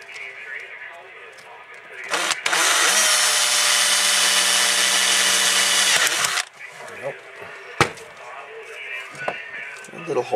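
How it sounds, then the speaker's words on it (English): A small drill whirs steadily for a few seconds boring a small hole in the plastic of an LED bulb, bracketed by quieter handling noises and some talk before and after. "Not drilling much, just a little bit."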